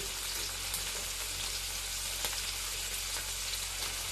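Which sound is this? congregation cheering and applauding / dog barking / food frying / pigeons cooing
food frying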